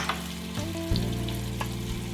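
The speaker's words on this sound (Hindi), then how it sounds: "अब इन मसालों को हमने 2 से 3 मिनट खूब भूनना है।" Spices including chili flakes, chaat masala and turmeric fry steadily in a pan for a black chickpea gravy, a continuous close sizzle with a brief louder burst of stirring near the start, no voices.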